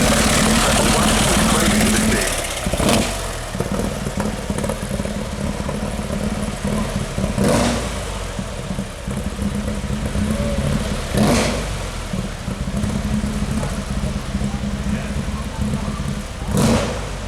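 A vintage land speed record car with a six-cylinder, 16.5-litre aero engine rumbles loudly and steadily, with a few sharp blips of revving spaced through the sound, at a street parade of aero-engined cars.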